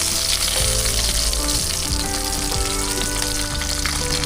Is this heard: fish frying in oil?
yes